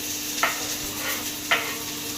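Chopped onion fries in a little oil for veg manchow soup, giving a steady sizzling hiss with two short stirring scrapes, close and alone.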